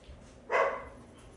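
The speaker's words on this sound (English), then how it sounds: "I think she's she's barking at the chickens." A single short dog bark at free-range chickens, somewhat distant, standing out against quiet outdoor background.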